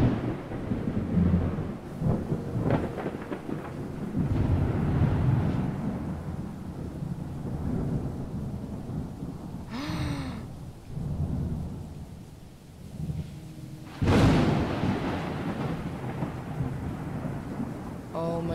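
A thunderstorm rolls through the video game Gravity Ghost, steady rain and low rumbling thunder building to two sharp lightning cracks, loud and close, with no speech.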